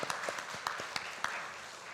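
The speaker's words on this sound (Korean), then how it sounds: "우리 수고하신 분들께 우리 감사의 박수를 하겠습니다" A church congregation at a Korean Sunday service applauds volunteers, with scattered distinct claps at the start that blend into a brief, fairly loud wash of applause.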